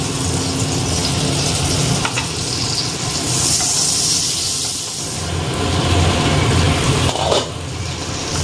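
Pieces of pointed gourd (potol) fry in a small amount of oil in a nonstick pan, a steady loud sizzling hiss throughout with faint clinks of handling.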